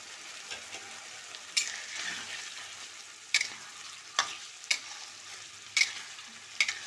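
Spices with a pinch of asafoetida frying in a pan, stirred now and then, give a steady soft sizzle broken by several sharp scraping clinks of the spoon against the pan.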